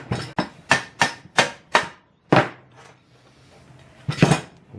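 A hammer taps a part into place during a Ford XC Fairmont 351 restoration, with about seven sharp metallic strikes in a quick rhythm, a pause, then one more tap, all close and clear.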